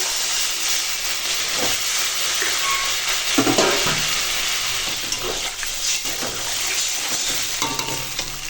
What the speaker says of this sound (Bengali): এখন আমি দিয়ে দেবো এই যে জল